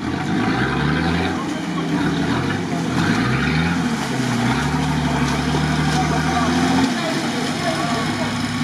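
A Nissan Patrol off-road vehicle drives with a loud, close engine drone that rises and falls in pitch through repeated revving, with a voice talking over it.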